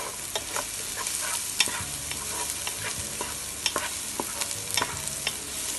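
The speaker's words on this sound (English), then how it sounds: "mix it well with the onion and garlic" Onion, garlic and crushed oregano sizzle in a pan for lamb bolognese while a spoon stirs them, giving steady frying crackle with repeated scraping strokes and soft knocks, close and without talk.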